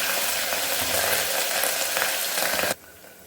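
Chopped chillies and ginger paste sizzling in a pan for moraiya khichdi, a loud dense frying hiss that runs steadily and then cuts off abruptly near the end.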